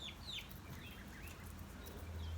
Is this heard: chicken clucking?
yes